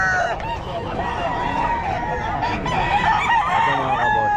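Sweater gamefowl roosters crowing repeatedly amid clucking and other fowl calls at a busy pet market, loud and overlapping, with a faint murmur of people in the background.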